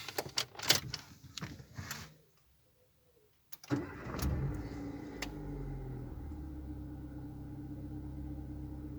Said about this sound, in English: I'm going to start the car again and see if that maintenance reminder comes up